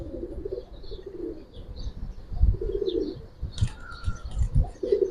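Giribaz pigeons, including young males of the Bagha and Silver types, coo in repeated low throaty bursts close by, mixed with soft wing shuffles and a few higher chirps.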